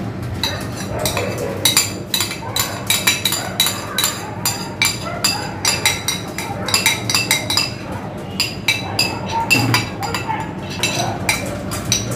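A semolina pudding mixture is strained with a utensil against metal and glass, making a steady run of quick, close clinks and scrapes in uneven rhythm.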